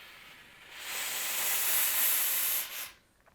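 A Laura Star steam iron with a water tank below lets out one strong, close hiss of steam that swells and holds for about two seconds, then cuts off sharply.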